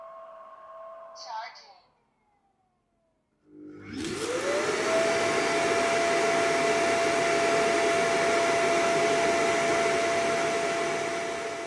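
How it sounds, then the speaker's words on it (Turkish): A robot vacuum's self-emptying dock (Botslab S8 Plus) starts with a brief mechanical whir, a pause, then a loud suction roar kicks in with a rising whine and holds steady for several seconds. "toz haznesinin tozları çekme süresi 20 saniye. 20 saniye boyunca gürültü oluyor."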